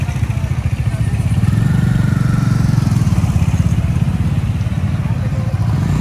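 Motorcycles on a monsoon ride trip near Ranchi are ridden off to park. A loud, close engine putters and chugs steadily throughout, with a rough, rhythmic low drone.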